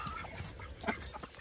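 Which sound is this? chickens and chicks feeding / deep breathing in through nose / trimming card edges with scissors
chickens and chicks feeding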